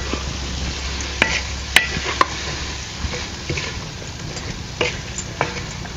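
Mixed vegetables seasoned with salt being stirred in a pan, with a steady soft sizzle and scraping under sharp clinks and taps of a spoon against the pan at irregular intervals, close and fairly loud.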